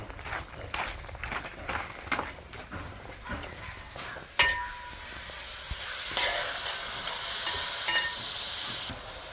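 Curry ingredients for a chicken curry frying in a pan as green chillies drop in, scattered clinks and stirring scrapes followed by a rising hiss and sizzle, close and moderately loud.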